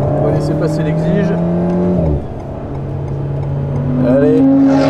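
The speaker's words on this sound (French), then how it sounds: "On va laisser passer l'Exige." A Lotus Exige on a race track during a trackday, its engine droning loudly and shifting pitch as it passes close by, dipping then rising again with a rev at the end, with people talking nearby.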